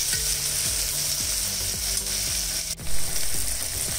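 Chopped tomato fries with softened onion in a pan, giving a strong, even sizzle that runs throughout, while a recurring ratchety mechanical rattle pulses underneath.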